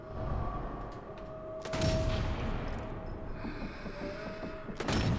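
Sniper Elite 4 gunfire crackles in bursts, with sharp shots near the start and end and busy battle noise between, while a voice talks faintly under it.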